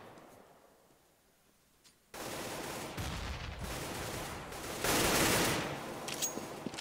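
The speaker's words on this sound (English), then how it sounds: "Frag from Forest there" Automatic gunfire rattles in a Counter-Strike: Global Offensive match on de_nuke, quiet at first, then a loud, sustained burst of rapid shots that swells further midway, with no voices.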